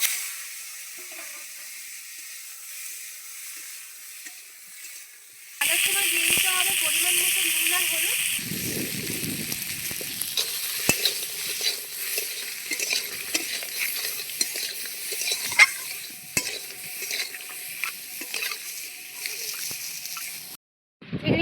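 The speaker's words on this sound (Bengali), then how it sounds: "কড়াইতে তেল দেওয়া হয়ে গেছে এবার চিংড়ি মাছগুলো ভাজবে" Prawns frying in hot oil in a wok over a clay stove, a loud steady sizzle starting abruptly partway through, with occasional clinks of utensils and stirring throughout.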